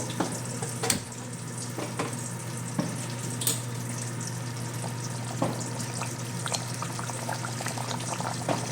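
Mutton curry bubbles and sizzles in an open pot after pressure cooking, a steady soft boil with faint scattered pops and clinks, moderately quiet and uninterrupted.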